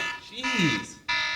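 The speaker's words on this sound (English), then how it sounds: "That was my alarm" A personal alarm sounds as a harsh, buzzing electronic tone in two loud bursts, with a person's voice briefly between them.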